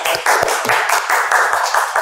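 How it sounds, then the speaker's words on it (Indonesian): Audience applause at a talk show about refrigeration engineering training, a steady dense wash of many hands clapping together, fairly loud and close, with faint voices mixed underneath. "Tepuk tangan dulu dong untuk"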